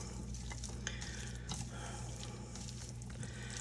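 Lemon dill chicken salad being stirred together in a bowl: soft, quiet squishing and scraping, close and continuous, with no voices.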